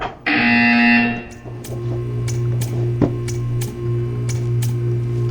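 Portal 2 test-chamber buzzer sounding as a loud, steady electronic drone that opens the moment, then settles into a low hum with faint repeated clicks, no voices over it.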